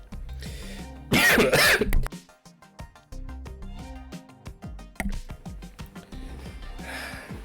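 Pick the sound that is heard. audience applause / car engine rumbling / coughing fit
coughing fit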